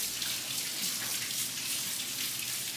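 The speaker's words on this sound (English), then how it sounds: "so I always rinse these beans." Canned beans are rinsed under a running kitchen faucet for chili, a steady hiss of tap water splashing over them throughout, close and fairly loud, with no speech.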